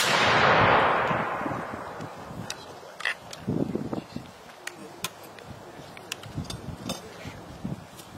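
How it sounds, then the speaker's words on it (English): A volley of Patriot militia muskets fired together at a battle anniversary demonstration, one loud blast that rolls away into a fading echo, followed by scattered clinks and handling noise as the weapons are lowered. "Make ready. Present."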